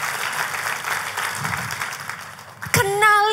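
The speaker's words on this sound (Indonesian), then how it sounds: "Oh kalau mau tepuk tangan, come on" Church congregation applauding during a sermon, a dense wash of clapping under a general hall ambience before a sharp sound and a brief sung or spoken tone at the end.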